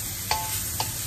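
Ground pork stir-frying in a pan for giniling with oyster sauce, giving a steady soft sizzle with two quick scraping clinks of the utensil. No voices.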